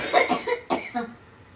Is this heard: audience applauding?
no